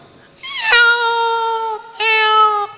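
Two drawn-out cat meows, loud and close, the first rising then holding steady, the second shorter after a brief pause.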